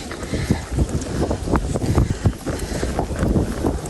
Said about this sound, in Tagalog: Masarap ang simoy ng hangin.